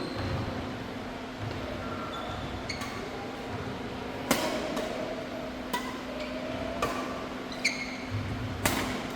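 Racket smashes sound as faint, sharp cracks at irregular intervals over a steady murmur of background noise, about five hits spread across the stretch.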